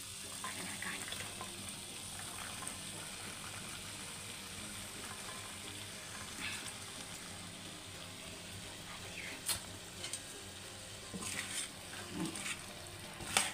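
Carrot, potato and green peas are stirred in a pan over a soft, steady sizzle, with faint scrapes and small clicks of the spoon near the end and no talk.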